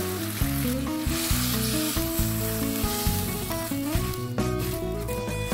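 Instant coconut milk poured into a hot pan for a chicken garang asem dish and stirred: loud steady sizzling and bubbling with stirring, close up, with music playing over it and no talking.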